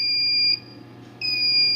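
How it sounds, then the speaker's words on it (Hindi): A multimeter gives a steady, high continuity beep during testing on a Samsung E1200Y phone board. The tone breaks off for about half a second and then resumes, loud and clear with no talking. "पर एक बीप साउंड दे रहा है।"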